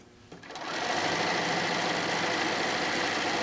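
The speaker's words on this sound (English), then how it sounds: "I'm sewing 1/4 of an inch in." A sewing machine runs steadily, stitching a quarter-inch seam along a quilt-as-you-go strip, starting after a brief quiet moment and then holding a loud, continuous mechanical whir to the end.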